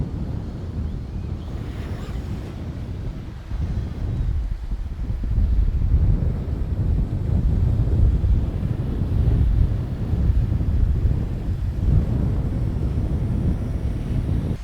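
Strong wind with gusts around 30 km/h buffets the microphone in a continuous low roar that swells in gusts, with no voices.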